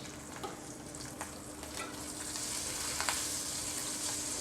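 Onion and slit green chilies frying in a pan for a lentil and gourd-greens dish, giving a steady close sizzle with occasional stirring scrapes, and the crackle swelling slightly louder in the second half.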